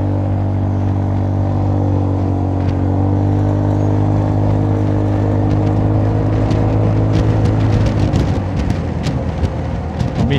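Honda Forza 300 scooter engine running during break-in, a steady loud drone with strong low harmonics that shifts in pitch as the throttle rises, with rougher broadband noise building near the end.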